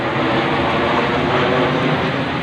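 Military planes pass overhead in wet, rainy weather, a loud, steady engine roar that fills the whole stretch without letup.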